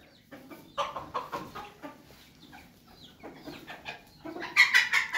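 Hens clucking in a backyard poultry run, a steady series of short clucks at moderate distance with a louder burst of clucking near the end.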